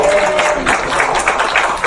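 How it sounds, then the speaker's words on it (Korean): A church congregation bursts into steady applause during a Korean Wednesday worship seminar. The dense, even clapping fills a room and lasts about two seconds. "하나님께 영광의 박수"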